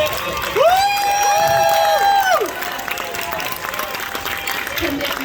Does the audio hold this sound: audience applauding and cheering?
yes